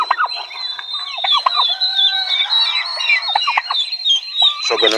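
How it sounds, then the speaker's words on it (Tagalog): A domestic turkey gobbles repeatedly in a yard, rapid warbling calls rising and falling close by, with bird chatter and faint squawks around it and no talking. "So ganun din itong ating pabo na to."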